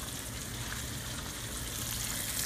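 Seafood for a seafood boil fries in a kitchen, giving a constant, dense sizzle with no breaks, close and fairly loud.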